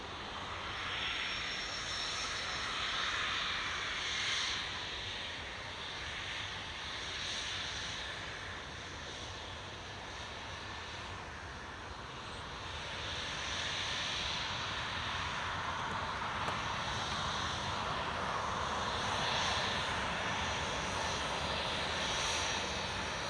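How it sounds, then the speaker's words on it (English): A Logan Air Embraer 145 regional jet sits just outside at Newcastle International Airport, giving a steady, faint engine whine and hum that carries on without a break. "we've got Logan Air's Embraer 145 just outside me"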